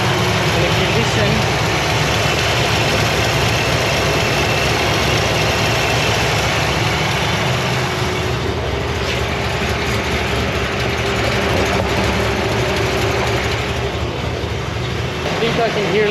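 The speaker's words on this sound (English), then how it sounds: "I think I can hear a little exhaust leak on this side right at the back." Holden ute engine idling steadily with a small exhaust leak at the rear on one side, a continuous broadband rumble and hiss running evenly throughout at close range.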